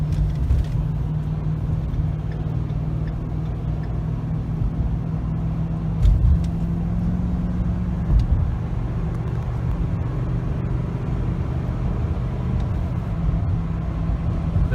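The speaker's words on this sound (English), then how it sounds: "he's up to a decent speed and can safely merge in to traffic" Interior of a car accelerating along a highway on-ramp and merging into traffic, a steady low engine and road rumble that holds constant throughout, with a couple of faint bumps and no talking.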